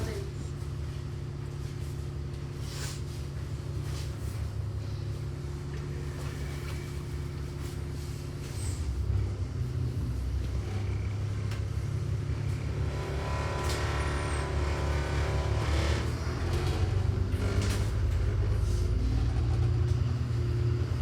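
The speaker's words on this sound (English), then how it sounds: "Here is our bus arriving from Wiveliscombe. It is an Alexander Dennis Enviro 400 in the buses of Somerset green livery." An Alexander Dennis Enviro 400 double-deck bus in Buses of Somerset green livery pulls in, its engine a steady low rumble that grows louder and fuller as it draws near, with faint voices in the background.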